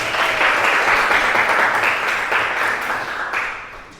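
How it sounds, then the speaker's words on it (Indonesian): Sustained applause from an audience, dense and steady clapping for about four seconds before thinning slightly at the end, with no talking over it. "terima kasih, tepuk tangan"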